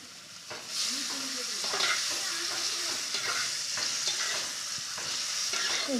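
Cubes of paneer fry in hot oil tinged with turmeric for paneer butter masala, a loud steady sizzle that swells as they go in, with spatula scrapes and stirring close by and no talk.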